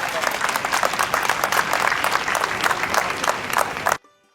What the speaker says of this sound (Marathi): एकदा मोठ्यांदा टाळी वाजवून आपण या सर्वांचं